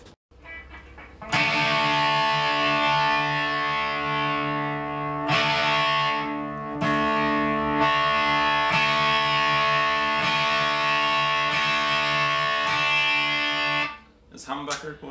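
BC Rich ST3 electric guitar through a two-cab stereo amp head: loud, distorted chords strummed and left ringing, with fresh strikes every second or two, then a brief cut-off and a few short stabs at the end.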